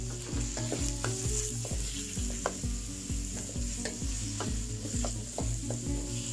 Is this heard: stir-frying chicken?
yes